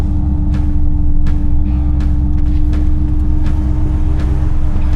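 A 1500hp street-legal Holden Ute rolls along at low speed, its engine a loud, steady deep drone with a strong low hum and faint periodic knocks, no voices.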